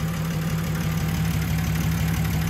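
BMW E93 car engine idling, a steady low mechanical hum with an even pulsing rhythm, close and constant, with no voices over it.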